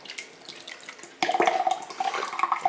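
Sour kefir milk poured from a container into a stainless steel strainer, a brief quiet trickle followed by a louder, sustained splashing pour with wet gurgles, close up and alone.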